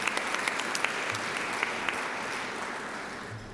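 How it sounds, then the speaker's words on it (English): Applause from the audience at a Rotary Club meeting with a US senator speaking, a full, steady roomful of clapping that lasts several seconds and tapers slightly at the end. "So give yourselves a round of applause for that good work."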